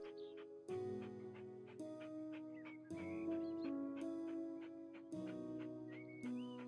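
A dog whimpering and panting in the House Flipper game, soft high whines and breaths sounding in short bursts, with clicks and thuds in between.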